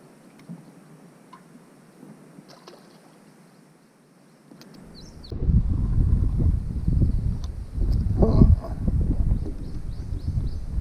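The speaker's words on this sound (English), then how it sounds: "I usually would be complaining about this wind blowing, but today it's keeping it cool" Wind gusts outdoors while fishing for crappie under thickening clouds, starting as a faint breeze and then buffeting the microphone as a loud, steady low roar for the second half, with faint bird calls above.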